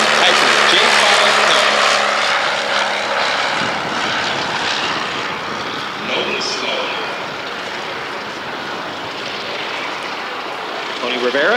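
A Taylorcraft Auster J5A light propeller aircraft passing low and slow at an air display, its engine drone loud and close at first, then easing off slightly while staying steady throughout.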